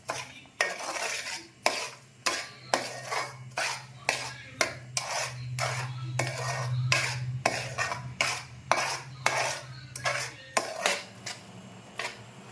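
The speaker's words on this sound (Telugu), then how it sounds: "ఇప్పుడు బాగా కలుపుకోవాలి." A spoon scrapes rhythmically around a pan of milk and sugar being cooked for kalakand, giving a dozen or so regular metallic strokes close by over a low steady hum.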